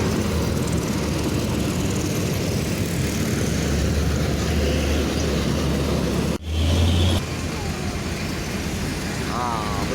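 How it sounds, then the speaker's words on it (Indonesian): A tour bus drives past at a bus depot, a steady, loud low engine rumble filling the whole stretch, with a brief dip and surge near the end as it moves by. "Bus pariwisata."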